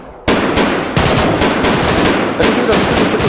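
Loud, continuous bursts of automatic rifle fire crackle without pause during a military field training exercise, with shouted voices briefly mixed into the barrage.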